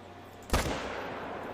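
A single sharp rifle shot fired at an animal in TheHunter: Call of the Wild, a loud crack with a brief rolling echo that fades into quiet outdoor ambience.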